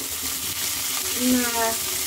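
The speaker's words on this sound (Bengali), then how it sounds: "অল্প ভাজা হয়ে গেছে, আমি এর মধ্যে এবার সবজিগুলো অ্যাড করব" Carrot, capsicum, cauliflower and cabbage hit a hot kadai for chicken chowmein, making a constant close sizzle with light stirring and a faint voice beneath.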